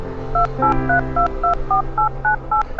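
Telephone keypad dialing tones: a quick run of about ten short, evenly spaced touch-tone beeps, clear and close, over a low steady background hum.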